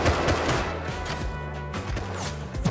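Rapid bursts of gunfire in the survival game Rust ring out at close range, sharp repeated shots with crashing impacts layered over a dense, noisy game mix.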